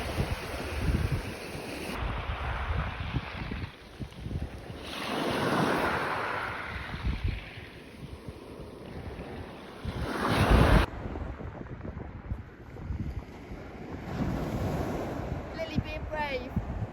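Waves and wind on a sunny beach: surf washes in and out in broad swells under gusty wind buffeting the microphone, with voices heard now and then.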